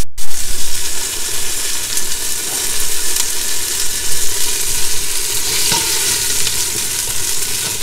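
Onions and garlic frying together in a pan, a loud, close, continuous sizzle with stirring scrapes, starting with a sharp hiss as they hit the hot oil.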